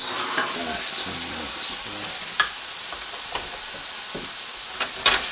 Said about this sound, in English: We've got everything sauteing up in there.